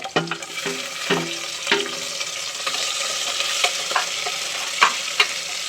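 Onions sauté in a pan for a country chicken curry, with loud, continuous frying sizzle and repeated scraping strokes of a spoon stirring through them.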